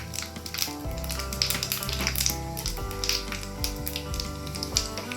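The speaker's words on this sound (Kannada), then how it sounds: "ಸಾಸಿವೆ ಚಟ್ಪಟ್ ಚಟ್ಪಟ್ ಸಿಡಿಬೇಕು ರೀ ಸಿಡಾಕೈತಿ ನೋಡ್ರಿ" Mustard and cumin seeds spluttering in hot oil for tomato chutney, a dense close crackle of rapid pops over a constant sizzle, with a low tonal hum running beneath.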